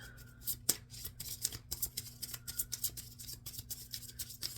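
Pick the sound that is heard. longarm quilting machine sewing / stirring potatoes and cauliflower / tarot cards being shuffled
tarot cards being shuffled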